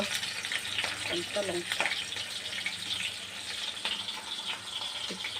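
Garlic and green chili fry in a pan with a steady, close sizzle throughout, broken by a few soft stirring scrapes and light clinks.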